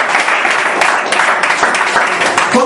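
Church congregation clapping hands together, a dense, sustained wash of applause throughout, with faint voices mixed beneath.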